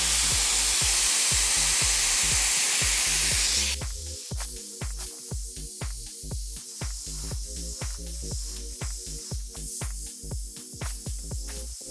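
A Shark FlexFusion hair dryer styling tool blows a loud, broad rush of air that suddenly drops in level partway through, with repeated soft clicks or rustles pulsing under the steady airflow and no talking.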